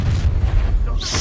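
A Confringo fire spell blast in Hogwarts Legacy, a deep booming burst that rumbles for about a second with a brief bright crackle near the end.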